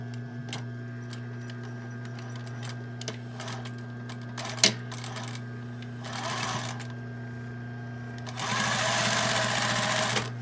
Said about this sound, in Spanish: voy a pasar una costura muy en el borde del doblez